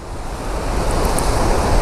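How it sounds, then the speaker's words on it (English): Chitrakote Waterfall in Chhattisgarh roars as a steady, loud broadband rush of falling water that holds constant throughout, with no voices. "Chitrakoot waterfall."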